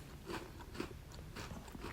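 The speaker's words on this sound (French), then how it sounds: "Le biscuit est très croquant" A crunchy Petit Écolier–style chocolate biscuit is bitten and chewed, giving a few faint, close crunches in a quiet room.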